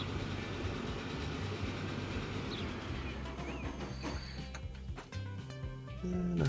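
A passenger train in Transport Fever 2 rolls past in a steady, loud rumble with clattering wheels, and the sound swells toward the end as it draws closer.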